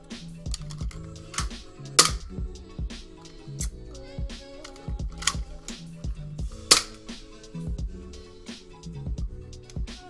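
A modded toy gun firing repeatedly, with sharp cracking pops scattered irregularly through a busy background of clicks and faint music-like tones, two louder snaps standing out.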